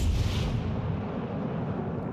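Naval guns fire in World of Warships Legends, a deep, heavy boom that rolls out into a long fading rumble, moderately loud and with no one talking.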